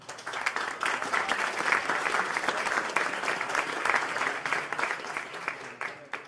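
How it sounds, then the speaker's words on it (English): A casino crowd at the final table of a PokerStars poker tournament in Barcelona gives a sustained round of applause, thick and even for over six seconds before it thins out near the end. "we can give a big applause to all the staff involved to the tournament."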